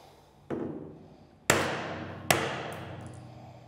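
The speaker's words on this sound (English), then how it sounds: "we're going to take our hammer and start with a few light blows and work our way up" A hammer strikes the end of an auger on a pellet grill to free stuck wet pellets: three sharp metallic blows, each louder than the last, every one ringing out and fading before the next.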